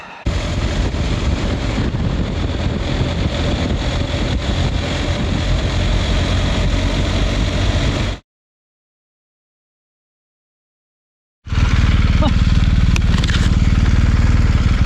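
A motorcycle on the move gives a loud, close, continuous rumble with heavy wind buffeting. The sound drops to total silence for about three seconds, then the engine and wind noise return just as strongly.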